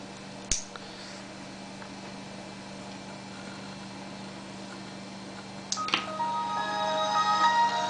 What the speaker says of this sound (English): Windows starting sound.